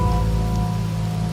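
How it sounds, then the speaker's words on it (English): Steady rain pours down in a Wuthering Waves game scene, a dense continuous patter at even loudness with a low background hum and no voices. "Rain's back."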